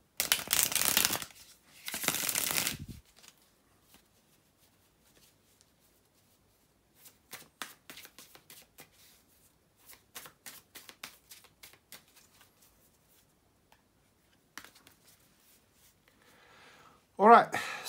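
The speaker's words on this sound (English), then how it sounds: "bear with me just a couple of seconds, guys, to shuffle the tarot cards" Tarot cards are shuffled close by in bursts: two loud riffling shuffles at the start, then quieter crisp flicks and taps of the cards scattered through long quiet stretches, ending with a brief voice.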